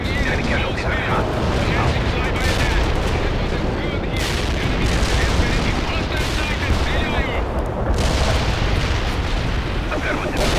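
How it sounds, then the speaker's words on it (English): A heavy artillery strike in the real-time strategy game World in Conflict, with a dense, continuous barrage of booming explosions and rumbling impacts filling the whole stretch, and voices talking over the battle. "Heavy artillery strike fired."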